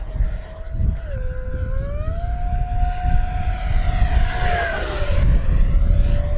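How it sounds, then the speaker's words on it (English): An FMS Futura 80mm electric ducted-fan RC jet on a 6S battery streaks past at about half throttle, its loud, rising and falling whine sweeping in pitch as it flies by against outdoor wind. "it's just a rocket fast airplane."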